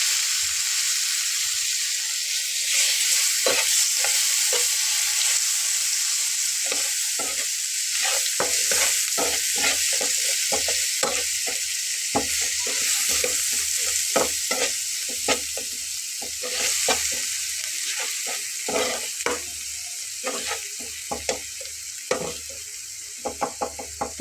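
Onion paste fries in hot oil with turmeric for a fish curry, sizzling steadily throughout while a spoon scrapes and stirs it in quick, uneven strokes, close and fairly loud, with no voices.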